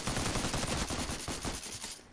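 A continuous stream of rapid automatic gunfire in Garry's Mod, fairly faint but dense and rhythmic, trailing off at the end.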